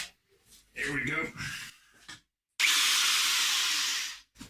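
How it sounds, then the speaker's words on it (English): A buffing wheel spun by a hand drill polishes guitar frets and fretboard, giving a steady whirring, rubbing hiss for about two seconds at close range, preceded by scraping and handling noises. "It's a buffing wheel that goes into your hand drill. And I'm going to do a cut polish on the frets and the fretboard."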